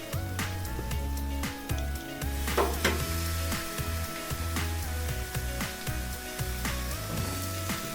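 Beef gravy hits a hot cast iron skillet with a steady, loud sizzle that runs throughout, broken by scraping and stirring strokes against the pan.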